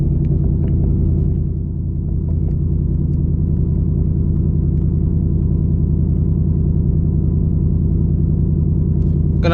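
A Ford S650 Mustang GT running on an E30 fuel blend after its first start, a steady deep engine rumble at idle that holds throughout, loud and close, with a brief sharp rise right at the end.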